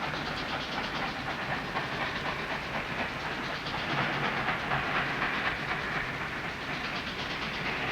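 A steam train rolls past with a continuous hissing rush and rhythmic clacking of wheels on the rails, steady and fairly close.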